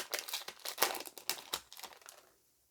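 Foil wrapper of a Yu-Gi-Oh! booster pack being torn open and crinkled, a quick series of close, sharp crackles and rustles lasting about two seconds before fading to quiet.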